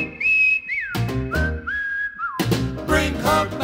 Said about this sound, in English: Whistles blow.